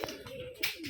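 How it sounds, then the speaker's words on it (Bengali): A single gerebaj pigeon coos at a Rajshahi pigeon farm, giving soft, low, throaty calls that pulse steadily through the second at close range, with some brighter background noise near the end. "যে ওখানে একটা কবুতর আছে"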